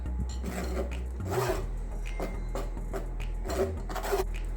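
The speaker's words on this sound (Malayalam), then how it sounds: "എന്നിട്ട് നമുക്ക് നല്ല വോണക്ക് ഇതൊന്ന് മിക്സ് ചെയ്തെടുക്കാം" Flour and baking powder mixed dry in a blender for a hot milk cake, giving a rough, raspy whirring that repeats in short bursts over background music.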